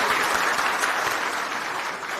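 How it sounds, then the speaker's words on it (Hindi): Dense crowd applause at an outdoor election rally in Assandh, Haryana, a steady loud roar of many hands clapping that holds evenly throughout. "उनके लिए मैं तालियों की गड़गड़ाहट से स्वागत चाहता हूं"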